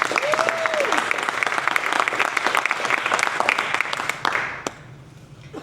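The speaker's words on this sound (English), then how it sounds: "How about a round of applause and a strong welcome?" A crowd at a county community meeting on fire risk applauds a visiting candidate, loud dense clapping with a brief vocal whoop early on, tapering off after about four seconds into quiet room noise.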